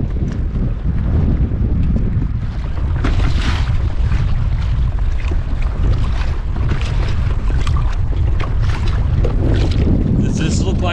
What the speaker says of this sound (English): This is not dying down for wind